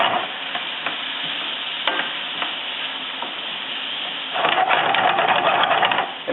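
Onions caramelize in a pan with bacon fat, a steady close sizzle with scraping stirs, growing louder and busier toward the end.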